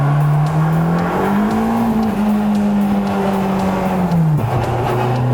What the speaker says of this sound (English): It's a drift car, man.